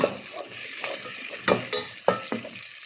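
Garlic and onion sizzling in melted butter in a pan for mushroom soup, a soft steady hiss broken by a few sharp scrapes of stirring.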